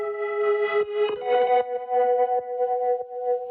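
A sustained synth chord with swelling, backward-sounding attacks that cut off abruptly, washed in chorus and effects, alone without voices.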